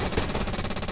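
A machine gun in the WW2 shooter Hell Let Loose fires a rapid, steady burst of closely spaced shots, loud and continuous for about a second with no talking.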